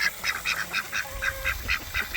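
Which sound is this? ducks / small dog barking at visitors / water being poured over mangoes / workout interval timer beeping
ducks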